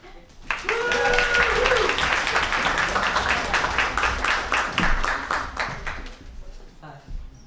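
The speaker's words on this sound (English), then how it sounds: "Please applaud him all the way to the stage" Applause from a poetry slam audience at Fitzroy Library in Melbourne as a poet walks to the stage, dense sustained clapping with some voices and a cheer mixed in, fading out near the end.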